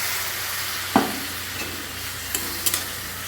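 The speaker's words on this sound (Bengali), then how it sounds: "জলটা দিয়ে ভালোভাবে মশলাটাকে আমি কষিয়ে নেব" Masala for an egg and eggplant curry sizzles in a pan after a little water goes in, a loud, close hiss broken by a few scraping stirs.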